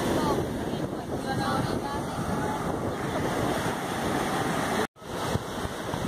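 Surf washing onto the shore at Praia 4 in Morro de São Paulo, Brazil, a continuous loud rush of waves mixed with heavy wind buffeting the microphone, ending in a sudden brief dropout.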